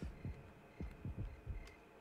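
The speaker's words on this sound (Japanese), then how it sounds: "この、鼓動はずっと鳴ってるのかい？" A low, muffled heartbeat throbs steadily in the horror game Yomawari, soft paired thumps repeating about every half second beneath a faint hum, with no voices.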